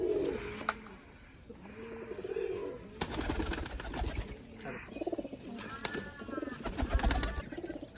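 Rajshahi Giribaj pigeons with feathered feet coo repeatedly at close range, overlapping low throaty calls rolling on in a steady rhythm, with faint flutters and no talk.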